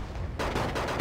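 Tank cannons fire in the video game Wargame Airland Battle: a short burst of heavy blasts in quick succession, sharp and dense, with no talk over them.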